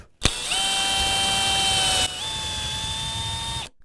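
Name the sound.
drilling a hole with Fastcap Flushmount drill bit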